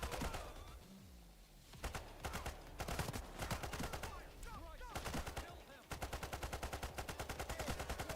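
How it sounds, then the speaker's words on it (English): AK rifle gunfire in a heist video game, rapid bursts of sharp automatic shots in quick rhythmic runs with brief pauses, loud and close, plus scattered game effects. "I have such a hard time killing shields with AK."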